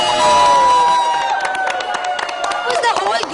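German football fans at the 2014 FIFA World Cup start with sustained voiced cheering, then break into a run of quick, close hand claps mixed with shouts.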